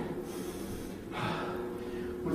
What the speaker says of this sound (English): you want to hit the deep breathing so you can see the oxygen depth building up